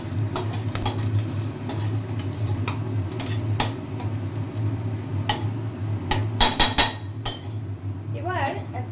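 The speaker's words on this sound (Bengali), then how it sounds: "যেহেতু তেল একদম নামে মাত্র, তাই ধারে যতটুকু তেল ছিল তাতেই আমরা ফোড়নটা দিয়ে দিলাম।" Whole cardamom and cloves tempered in a small amount of hot oil in a pan, a soft sizzle under repeated close metallic clinks and scrapes of a spatula against the pan.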